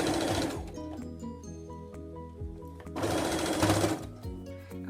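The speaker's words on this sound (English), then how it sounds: "Go ahead and sew the whole length of this." A sewing machine runs in two steady bursts, its fast needle chatter stitching quilt pieces together for a biscuit quilt, with a quieter pause of hum and clicks in between.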